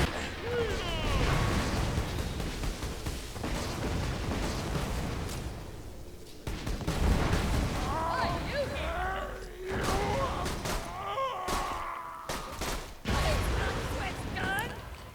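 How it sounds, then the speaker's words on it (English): Explosions and gunfire in the Borderlands video game, bursts of blasts and shots rising and falling over about fifteen seconds, with game voices and chatter running through. "That explosion got the Goliath's helmet off."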